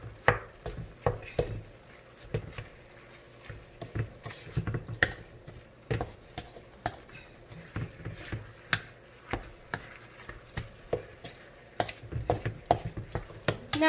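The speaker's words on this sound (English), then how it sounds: "And then let's give this one a good mix." A spoon works garlic, pepper and herb spices into lasagna filling in a bowl, making close, irregular taps, knocks and soft scraping strokes that repeat steadily throughout.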